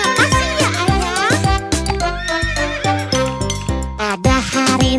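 A horse whinnies, pulling a delman carriage, set against a bright children's song with steady instrumental backing that runs through the whole stretch.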